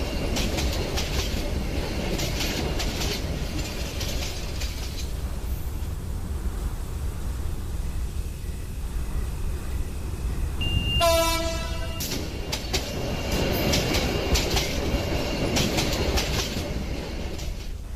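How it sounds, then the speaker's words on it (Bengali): A train rumbles into Hasilpur station with a continuous clattering roar, then sounds one clear horn blast partway through before the rolling noise carries on. "আবার হর্ন বাজিয়ে ট্রেনটি হাসিলপুর স্টেশনে এসে থামল।"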